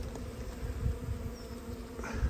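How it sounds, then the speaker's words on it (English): Honey bees buzz steadily after being shaken off a comb from a colony removed from a solid chimney. The drone is close and low-level, with a few brief louder passes. "I've shaken all the bees off that comb into here"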